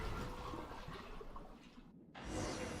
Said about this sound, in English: water draining noises